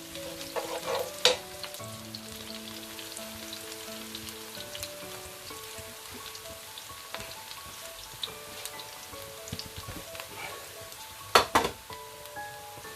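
Sliced garlic cloves sizzle and crackle in hot oil in a pan for a chicken bhuna, with scraping stirs and a few louder clatters over a steady fry, close and without speech.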